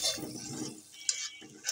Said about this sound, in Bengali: এখন গরম পানি দিচ্ছে মাংসতে।